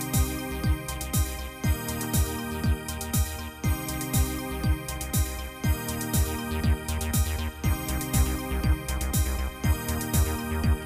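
Sequenced synth notes from a Roland JD-Xi, played as a backing pattern: a steady, repeating rhythmic line of bright, filtered tones with a pulsing beat, loud and continuous with no voices.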